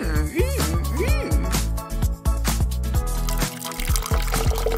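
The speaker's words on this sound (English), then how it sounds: "Pour some juice inside." Juice poured into a container, heard as a close, bubbling pour with gurgles and sliding pitch sweeps as it fills, with splashes and drips throughout and music playing along.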